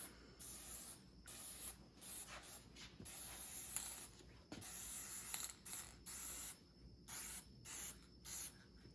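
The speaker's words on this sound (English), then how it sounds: "time to get the first paint on the Denali" Spray gun applying the first coat of paint to a Chevrolet Silverado LML Duramax truck frame, a close steady hiss in repeated bursts with short pauses between passes.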